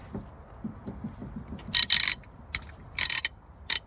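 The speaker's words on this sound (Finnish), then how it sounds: "Jäähdyttäjän tuuletin siipi on varustettu vapaakytkimellä, joten siitä ei päästä moottoria pyörittämään." Freewheeling radiator fan blade clutch on a 1966 Plymouth Belvedere sedan being turned by hand, giving soft rhythmic ticking clicks followed by several sharp, bright metallic ratcheting bursts, close up with no talking.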